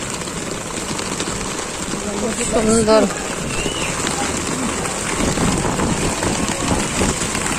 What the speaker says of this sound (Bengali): দেখেন বাইরে বৃষ্টিটা,